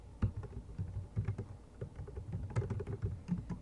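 Quiet, close keyboard typing runs in an uneven stream of soft key clicks while a post is written on Google Sites. No voices are heard.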